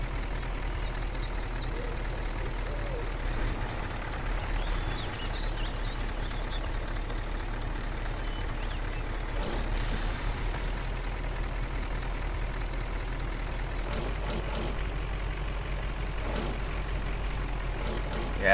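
An Oshkosh HET heavy truck in the Spintires video game releases its handbrake with a short hiss of air, then drives on with a steady low diesel drone, and a few faint clanks sit under the engine.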